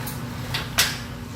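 A steel return air filter grille door swings open on its latch, giving a soft click followed by a sharper metallic clack near the middle, close and brief over a low steady room hum.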